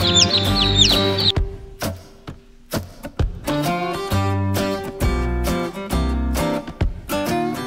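A broody hen sitting over ducklings clucks in close, loud bursts, irregular low throaty calls with brief pauses, while faint high peeping from the young is heard at the start.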